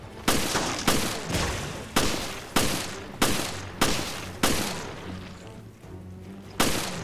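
Rapid gunfire in the video game Resident Evil Revelations: about nine sharp, loud shots spaced roughly evenly, each followed by a short decaying tail, with a brief pause before the final shot.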